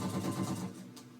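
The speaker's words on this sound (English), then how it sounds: "there will be times that you will only hear the sewing machine" A sewing machine stitches in quick, rhythmic pulses, close by and moderately quiet, then slows and stops partway through.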